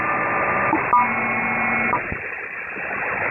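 Telephone dialing tones over an HF radio phone patch: a few short steady tones sit in band-limited radio hiss, followed by a brief click and continued static, with no voices.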